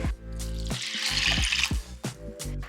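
Water poured into a heavy-bottomed clay pot while cooking a Japanese winter dish, a close, steady splashing pour lasting a couple of seconds with no talking.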